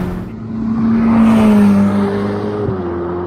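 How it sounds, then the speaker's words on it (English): A Ferrari F8 Spider's 710 hp engine hums with the top down, a steady mid-volume drone that rises briefly in pitch, then settles with a shift, under rushing wind noise. "with the top down, I hear engine, but it's just not dominating the experience."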